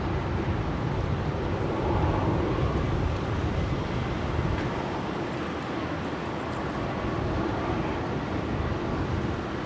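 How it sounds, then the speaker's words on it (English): Steady broadband roar of a Qantas Airbus A330 arriving from Auckland at Brisbane International Airport, a continuous loud rumble with no talk. "We'll have a 330 coming in from Auckland of Qantas"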